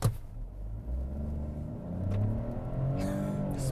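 A 2023 Ford Bronco Sport engine revs up hard at full-throttle launch with traction control off, a deep rumbling roar that rises and builds, heard from outside the vehicle.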